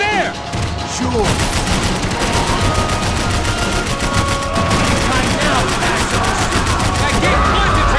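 Max Payne 3 gunfight in dense, continuous automatic fire, loud rapid bursts that fill the whole scene, with voices shouting underneath.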